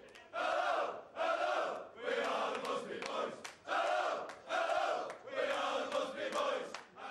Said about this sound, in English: The United fans still sing Matt Busby songs today.